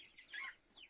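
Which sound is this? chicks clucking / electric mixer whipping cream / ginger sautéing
chicks clucking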